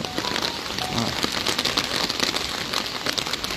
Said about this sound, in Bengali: কেউ ভাবতেও পারেনি যে বৃষ্টি নেমে যাবে